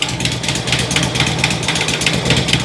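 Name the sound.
Harley Twin Cam engine idling, possible exhaust leak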